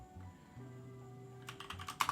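Someone types on a computer keyboard in quick, soft, close clicks over a quiet background, ending in a slightly louder burst of keystrokes.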